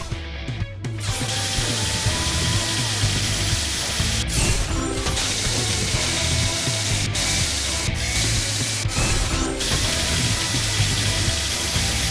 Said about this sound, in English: Move this to place the drill,